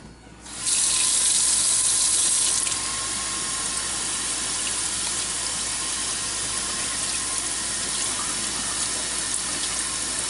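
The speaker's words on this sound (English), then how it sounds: "we're going to use low pressure tap water or low pressure hose over a sink or over a sewer" Low-pressure tap water pours steadily over a car air filter being rinsed above a sink or drain, a constant close hiss of running water with a brief louder gush near the start and no talking.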